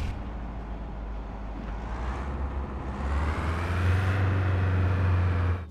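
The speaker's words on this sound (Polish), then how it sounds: "Jednym z nich jest typowy dla samochodów z silnikiem diesla klekot." Diesel truck engine idling in Trucks and Logistics Simulator, a steady low rumble with a faint clatter that swells slightly near the end, heard alone without talk.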